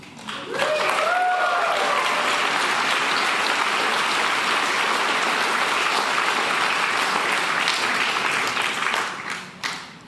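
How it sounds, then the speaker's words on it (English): Audience applause at a Liberal leadership campaign announcement in Canada, a broad sustained clapping that swells near the start and holds steady at full volume for about nine seconds before tapering, with faint voices mixed in. "You guys aren't clapping at home. Start clapping."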